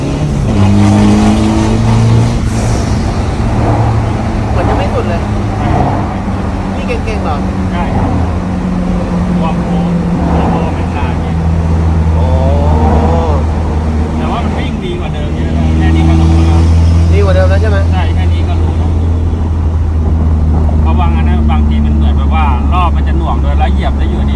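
Remapped diesel engine, tuned to cure heavy smoke and stuttering, revved hard to about 4000 rpm with gear shifts, a loud continuous droning roar that rises and falls across the changes while people talk over it.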